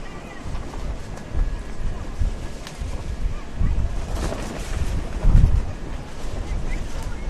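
Strong wind gusts buffet the microphone at Ho'okipa beach on Maui, with ocean surf rumbling underneath and loud thumping bursts of wind noise throughout.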